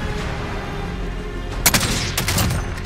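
Gunfire from Call of Duty: Modern Warfare (2019) on the Verdansk map, a few sharp shots cracking in quick succession over a steady game ambience, loud and close.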